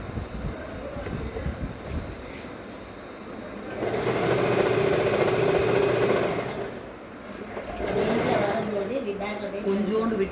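An Usha Wonder Stitch sewing machine hems fabric in two steady running bursts, a close whirring mechanical drone with a brief pause between them, while someone talks.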